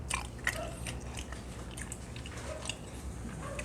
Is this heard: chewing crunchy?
yes